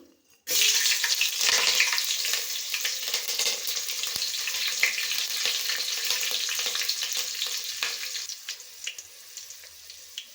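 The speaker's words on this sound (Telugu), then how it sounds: "దాంట్లోకి కరివేపాకు మిర్చి వేగుతుంది" Green chillies and cumin hit hot oil with a sudden bright sizzle that stays strong and crackling throughout, close and loud with no voices.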